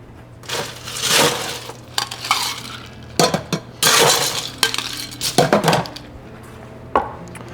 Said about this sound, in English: Now we're gonna add ice.